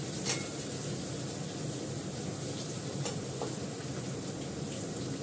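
Garlic frying in a pan, giving a steady low sizzle throughout with a few faint clicks and stirring scrapes.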